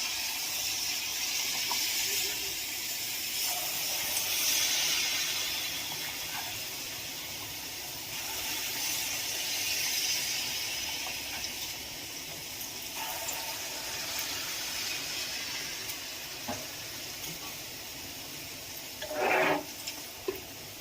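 Palm malpoa batter spooned into a hot pan over a low gas flame sizzles with a soft, continuous hiss and faint crackles, plus a short louder spatter near the end.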